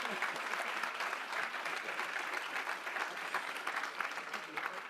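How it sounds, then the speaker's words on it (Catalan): An audience at a professional awards ceremony applauds for Marta, a dense, sustained round of clapping from many people that holds steady throughout, with faint murmuring beneath. "Un aplaudiment per ella, sisplau."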